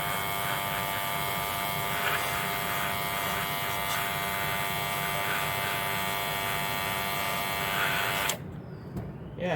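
SHANGSE cordless rechargeable airbrush with a 30 psi compressor spraying paint, a steady electric buzz and hum running loud and continuous for about eight seconds before cutting off abruptly.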